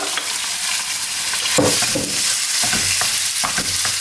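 Sliced chicken sizzles in a wok of hot olive and sunflower oil, a steady broadband frying hiss with several sharp scrapes and clacks of stirring breaking through.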